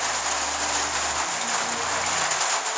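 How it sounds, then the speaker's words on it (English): Rain drums steadily on the roof of an off-grid home in the Arizona desert, a continuous close hiss with a low hum underneath that drops away partway through. "And you hear on the roof it's raining."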